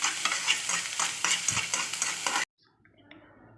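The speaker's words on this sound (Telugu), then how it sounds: "తర్వాత టమాటోస్ని కూడా ఇలాగే ఆయిల్ వేసి ఫ్రై చేసుకోవాలి" Tomatoes fry in oil with a loud, steady close sizzle and rhythmic stirring scrapes, then the sound cuts off abruptly into near silence with only faint rustles.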